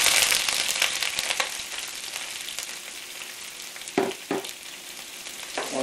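Onion dropped into a pan of frying garlic sends up a loud, close sizzle that settles into a steadier hiss, with a couple of stirring scrapes near the end.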